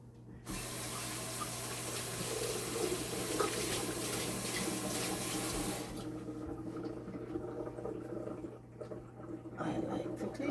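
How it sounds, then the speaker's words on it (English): Tap water runs steadily into a sink while salt mackerel is rinsed, a loud continuous splashing rush that eases after a few seconds into quieter trickling and handling sounds. "It's fish, so you gotta wash it."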